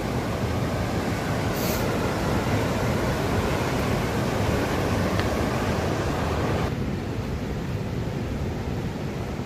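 A big mountain stream roars loud and steady, a dense unbroken rush of water that drops slightly in level partway through.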